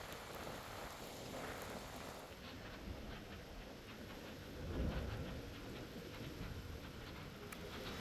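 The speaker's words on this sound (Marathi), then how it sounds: "वादळी वाऱ्यासह आणि विजांच्या कडकडाटात सुरू असलेल्या पावसामुळे महामार्गावरील वाहतुकीचा वेग मंदावलाय" Heavy rain pours steadily in a thunderstorm with strong winds on the Pune–Solapur highway near Loni Kalbhor. The hiss is dense and unbroken, and a low rumble swells briefly near the middle.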